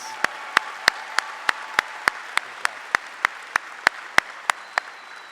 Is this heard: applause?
yes